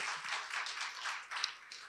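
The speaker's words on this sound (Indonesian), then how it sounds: "Yang percaya berikan tepuk tangan dulu buat Allah kita." A short burst of clapping from a small church congregation, uneven claps overlapping for a couple of seconds, fairly close and moderately loud.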